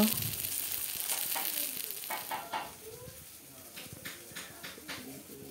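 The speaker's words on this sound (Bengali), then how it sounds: "এখানে বেগুন ভাজা হয়ে গেল" Eggplant slices rubbed with salt and turmeric fry in oil, a steady soft sizzle with scattered pops and crackles, brief utensil clicks, and a faint hiss throughout.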